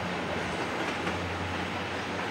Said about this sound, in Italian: Quindi adesso aspettiamo che passa il treno